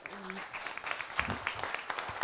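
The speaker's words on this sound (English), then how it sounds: "If you can just give them a round of applause for that" A round of applause for a panel at a road-safety innovation workshop, dense clapping from an audience at moderate level, with a brief voice murmuring near the start.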